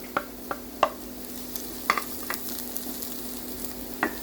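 Garlic frying in a pan for fish sarciado, a steady soft sizzle under scattered clicks and scrapes of a utensil against the pan, close and fairly quiet with no voices.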